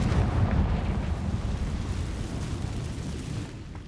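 A Confringo blasting spell from Hogwarts Legacy erupts in a deep, rumbling explosion that starts loud and slowly fades over a few seconds, with no voices.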